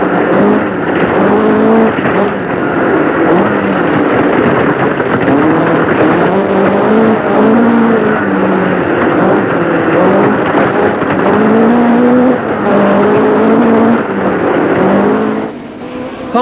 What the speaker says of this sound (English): So it's on again through the Yorkshire stages, as seen from the dealer team Vauxhall Chevette, with Tony Pond at the wheel.